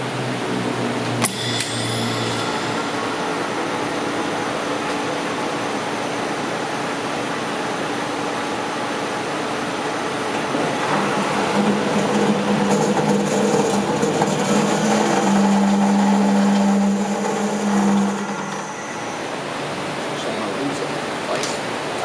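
A Scotchman 14-inch semi-automatic variable speed ferrous cold saw cuts through all thread rod. After a high whine starts up, a steady mechanical drone builds into a louder grinding cut in the middle and then eases off, close and continuous.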